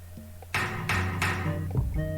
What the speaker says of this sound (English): can we smash it with the hammer?